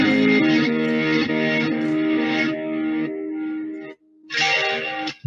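Electric guitar chasing a band's sound through a reverse delay effect, swelling, smeared chords ringing loud and close with reverb, cutting out briefly before a final loud chord; no talking.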